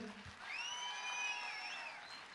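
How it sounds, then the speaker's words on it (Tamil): Audience applause at a Tamil association Pongal festival stage show in Kuwait, greeting a bass player as he is introduced; steady clapping of moderate volume from a hall crowd, with sustained musical tones ringing over it. "ஒரு பலத்த கைத்தட்டல் பீட்டர்ஸ் சாருக்கு எல்லாரும் சேர்ந்து"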